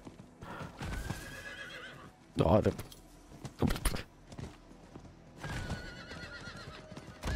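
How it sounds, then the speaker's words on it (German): A horse in the video game Diablo IV clip-clops and neighs loudly in repeated bursts. Faint voices talk around the sounds, and a jangling game effect rings in between. "Mein Pferd tritt dir schon ins Gesicht."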